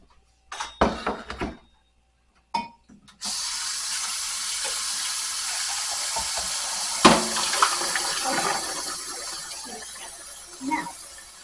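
Butternut squash soup poured through a strainer into a sink, a few clunks and knocks of pot and utensils first, then a steady rushing, splashing pour that runs for several seconds before tapering off.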